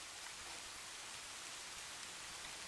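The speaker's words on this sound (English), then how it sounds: "It's just raining, so I can't go to sleep." Rain falling in the Minecraft video game, a steady, soft, continuous hiss of rainfall that stays even throughout, faint and with no voices.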